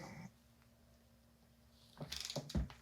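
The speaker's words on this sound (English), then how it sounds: "now we torque them" A torque wrench clicks and ratchets while tightening 10 mm nuts on a 2022 Fox Float 34 Performance Series fork with GRIP damper, set to 6 newton metres, heard as a few sharp mechanical clicks near the end after a quiet stretch.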